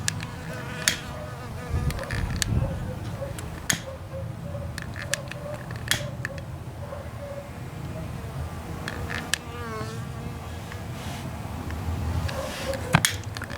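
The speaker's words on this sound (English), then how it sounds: "Some bees all around me." Bees buzz around outdoors on a windy day in intermittent close passes, their hums rising and fading over a background of wind and small clicks, with no talking.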